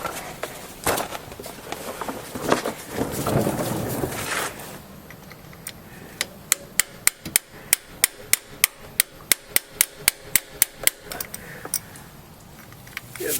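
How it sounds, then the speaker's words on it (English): A hammer strikes a 1/8-inch punch to drive a small pin out of a 2004-09 Mazda 3 manual gearbox during a 5th gear repair. About fifteen sharp, evenly spaced metallic taps ring out close by, following some handling clatter. "Grab a hammer and knock this little thing out."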